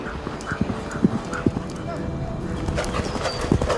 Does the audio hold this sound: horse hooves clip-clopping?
yes